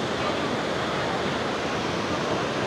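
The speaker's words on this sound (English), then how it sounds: "So over there are the waterfalls I saw when I first arrived" Iguazu Falls in Brazil roaring as a massive waterfall, a dense, steady broadband rush of falling water that fills the scene continuously without a break.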